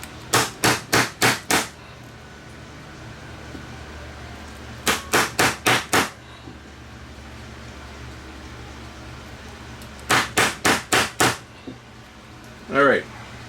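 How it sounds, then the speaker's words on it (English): Three bursts of rapid metallic taps, five or six strikes each, from a screwdriver hammered against crimped metal inside a Sony SLV-R5 VCR, ring out close and sharp with pauses between; a brief voice follows at the end. "just try hammering this over a bit"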